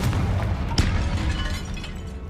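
A Confringo blasting spell exploding in Hogwarts Legacy, a loud dense burst with a sharp crack midway and a rumbling tail that fades gradually.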